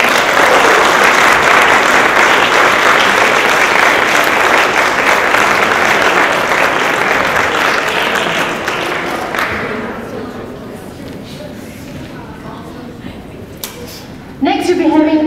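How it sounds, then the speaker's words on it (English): Loud, sustained audience applause at a Young Illustrator Awards prize presentation, thinning after about nine seconds into sparse claps and faint crowd noise, with a short burst of sound near the end. "please give a round of applause"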